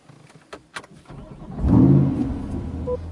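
A few clicks, then a 2020 Corvette Stingray Z51 engine with AWE exhaust cranks and roars to life, settling into a loud, throaty idle close by.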